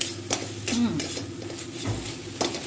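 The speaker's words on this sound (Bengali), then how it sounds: "দেখুন পোস্তটা হালকা ভেজে নিচ্ছি" Poppy seed paste mixed with green chilli paste fries lightly in a pan, a gentle sizzle under repeated scraping and clinking of a spatula against the pan, close and moderately quiet.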